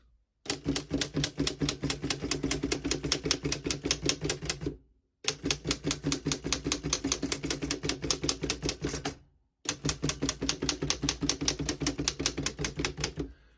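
A 1923 Oliver No.11 antique typewriter is typed on close up. Three long runs of quick, even key strikes are separated by short pauses, with no talking.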